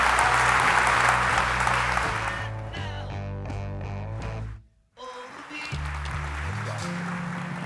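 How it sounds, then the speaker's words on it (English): Audience applause for the panelists at a town hall event on trade, loud clapping at first that blends into stage music with held tones, drops out briefly, then returns under the music. "we might give a round of applause to our fabulous panelists"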